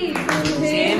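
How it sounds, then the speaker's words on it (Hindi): Quick hand clapping in a live game stream, a short run of claps over a steady background of music or voices. "क्लैपिंग, तालियां, वेल डन।"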